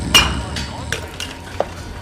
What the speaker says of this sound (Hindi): उस बोतल को जोर से काउंटर पर ठोक दिया।